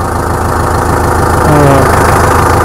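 A 2175 tractor idles with a steady, low, rumbling engine drone that holds level and continuous for the whole stretch, close by and fairly loud, alongside a new forage harvester in Kenya.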